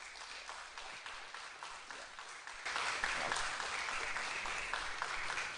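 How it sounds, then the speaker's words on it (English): Audience at a book launch applauding, scattered clapping that swells louder midway and continues steadily. "I would like everyone to give him a round of applause."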